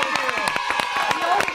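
A studio audience cheers and claps for fashion guests Joe Zee and Iman at a live Fashion Week morning show, a dense burst of applause with shouts and whoops that runs steadily through the moment and mixes with voices.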